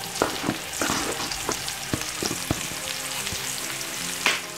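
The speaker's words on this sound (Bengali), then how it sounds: "মাশরুমটাকে ভেজে নিতে হবে" Sliced white mushrooms fry in a pan with a close, steady sizzle, broken by sharp scraping and tapping as they are stirred; no one speaks.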